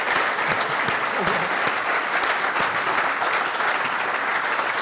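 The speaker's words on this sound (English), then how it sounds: "give this amazing couple a big round of applause" Sustained, dense applause from a large conference audience at the end of a keynote address, steady and loud for the whole stretch with no speech over it.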